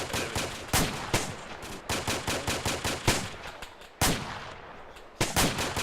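Gunfire rattles through a military video game battle, rapid automatic bursts and single loud shots in quick succession, close and sharp, continuing almost without pause.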